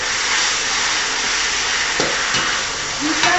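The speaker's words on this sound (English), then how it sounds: "We fry the noodles with the sauce first." Drunken noodles (pad kee mao) frying in a wok with oyster sauce, light soy and dark soy, a steady close sizzle with a few scraping stirs near the end.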